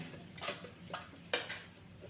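Pumpkin pieces stirred and roasted in ghee in a pan, heard as a few sharp scraping clinks of a spoon against the metal, spaced irregularly and close, with only a faint sizzle beneath.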